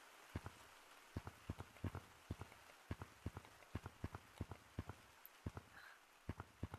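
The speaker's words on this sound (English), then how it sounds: "I kind of like this rain." Rain falls in the Gorilla Tag VR game, a steady patter punctuated by regular sharp close taps that recur about twice a second, with no talking.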